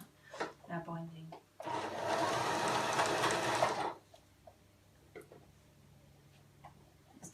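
A sewing spider machine stitches along the binding of a girl's dress in one fast, whirring burst of about two seconds, close by, with a few clicks and handling noises around it.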